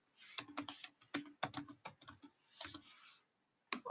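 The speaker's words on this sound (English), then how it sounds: "Let me type it in better." Quick bursts of keystrokes on a computer keyboard, typed in uneven runs with brief pauses between words; close and fairly quiet, with no talking.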